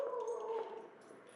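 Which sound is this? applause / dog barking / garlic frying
dog barking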